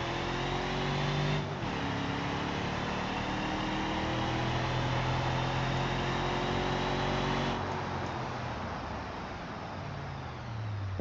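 An old van engine drones steadily while driving on a circuit in BeamNG, its pitch shifting through gear changes at a fairly loud, constant level, with no voices over it.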